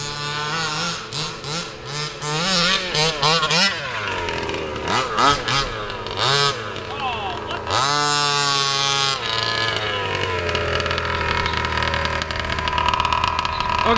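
A fifth-scale gas-powered RC car engine revs up and down in short test run-ups, a buzzy two-stroke whine rising in pitch, then holding high and loud before easing off, heard close with no talk.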